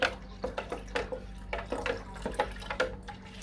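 Water trickles and splashes into coconut milk squeezed from coconut, being thinned for a sweet potato pudding, a close, uneven pouring with small drips and bursts over a low steady hum.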